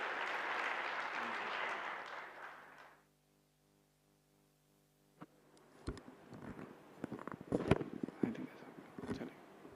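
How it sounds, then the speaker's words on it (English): Audience applause fills a conference hall for about three seconds, a dense steady clatter of many hands, then breaks off into near silence before scattered thumps, shuffling and faint voices follow. "Please give a big round of applause to Brother Bhavesh Panchal."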